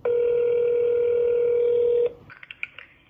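Telephone dialing while calling a grandmother: a loud, steady dial tone holds for about two seconds, then cuts off into a few quick, fainter dialing beeps and clicks.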